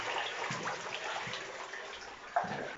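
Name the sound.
waterfall in the catacombs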